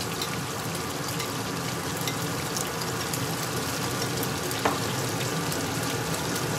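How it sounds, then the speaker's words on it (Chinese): Meat slices for ginger pork fry in a pan over low heat, giving a steady, dense sizzle that holds evenly throughout with no voices. "肉在煎"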